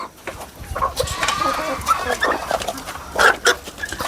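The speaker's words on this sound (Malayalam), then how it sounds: "ലോകത്തിലെ ഏറ്റവും ചെറിയ കോഴി കിടപ്പുണ്ട്" Clucks from a tiny chicken of the world's smallest breed, a few short clucks and calls at moderate distance with other farm noise around and no speech.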